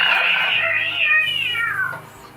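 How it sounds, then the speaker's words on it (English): A single drawn-out cat meow, fairly close and clear, rising and then sliding down in pitch over about two seconds, with faint background murmur and no one talking. "Get the cat."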